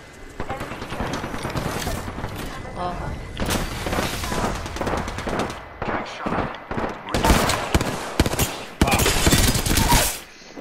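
Grenade blasts and gunfire in an Apex Legends firefight, repeated heavy bursts and booms coming in uneven clusters with short gaps between them, loud and close, while a player talks over the action.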